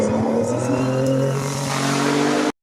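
A race car engine roars close by at a hill climb in Saint-Gouéno, France, revving hard and climbing in pitch as it accelerates, loud and sustained until it cuts off abruptly.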